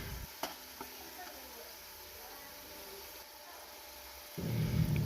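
Beef with ginger garlic paste fries in a pan, a quiet steady hiss with a couple of small clicks, swelling into a louder sizzling burst at the end.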